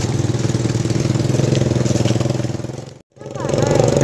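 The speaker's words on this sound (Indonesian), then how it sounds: "Ya, tapi ada motor. Iya, ATV itu namanya." An ATV engine runs on a rocky path near a river at a Cibodas campground, a close, loud, pulsing idle-like rumble that cuts out briefly and then resumes.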